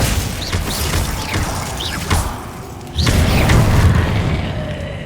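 Confringo fire spells explode in Hogwarts Legacy combat, landing as several loud booms and bursts over a busy battle din, with a big blast near the end.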